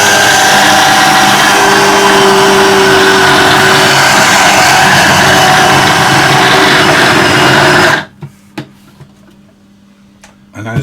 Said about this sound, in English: I want to process this until it all comes together into a dough.